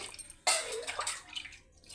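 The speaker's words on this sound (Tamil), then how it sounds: "7 டம்ளர் தண்ணி ஊற்ற போகிறேன்" Water poured from a tumbler into a cooking pot, a sudden close splash after a quiet moment that runs on as a gurgling trickle before fading, with no voices.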